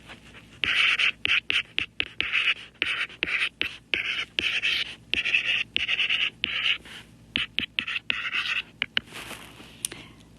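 A pen scratches out a math formula in quick, uneven strokes, close and crisp, with short pauses between bursts of writing.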